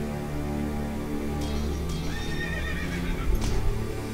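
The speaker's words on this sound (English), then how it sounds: "He got on a horse, I think!" A horse whinnies in a medieval battle video game, a high wavering neigh over steady game music and background noise, with hoof sounds beneath.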